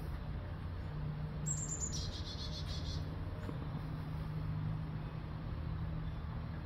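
Small birds chirp in a few brief bursts near two bird feeders outside an apartment complex, heard over a steady low outdoor hum.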